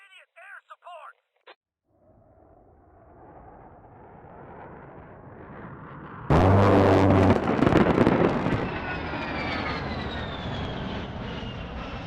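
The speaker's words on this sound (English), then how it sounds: "we can stabilize and then call an accurate A-10 strike on it" A-10 airstrike in the video game Squad: a brief radio voice, then a rising jet engine roar building over several seconds into a loud burst of explosions that trails off into rumbling.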